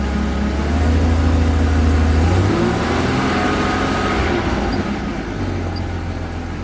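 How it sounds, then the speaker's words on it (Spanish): A car engine revs as the accelerator is pressed during a knock sensor test. The close idle rises for a couple of seconds, then settles back to a steady, lower hum with no talking. "Si yo acelero va a variar. Las revoluciones del motor."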